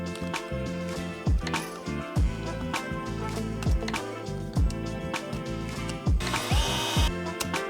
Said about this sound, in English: let's put the 10 screws back